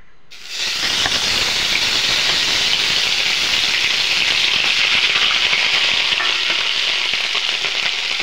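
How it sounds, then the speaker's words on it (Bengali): Dried fish go into hot oil in a pan and burst into a loud, sustained hissing sizzle that starts abruptly and stays steady and close with no talk. "তেল গরম হয়ে গেছে। এখন শুকনো মাছগুলা দিয়ে দিম,"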